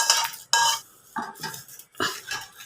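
Gongura pulihora being mixed with a tempering of hing in a pot, a few scraping clinks of a spoon against metal in short separate strokes, close and fairly quiet.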